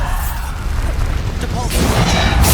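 Blasting-spell explosion from the Hogwarts Legacy game, a loud burst with a crashing tail that swells near the end over dense game noise.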